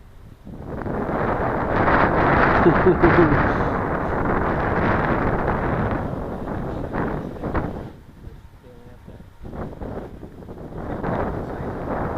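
Strong wind buffets the microphone at an outdoor flying field where model jets are flown, a loud, sustained roar that dips briefly and returns in gusts.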